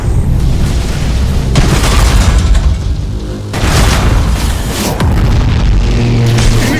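Ship explosions in the space strategy game Battlefleet Gothic Armada 2: loud, sustained booming blasts that swell in three or four waves, with a deep rumbling low end and crackling debris noise, no talk.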